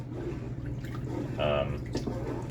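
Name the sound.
stirring rice in water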